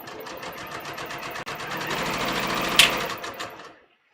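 A sewing machine stitches a muslin undercollar, running in a fast, even mechanical chatter up close with a brief click partway through, then stopping near the end, no voices.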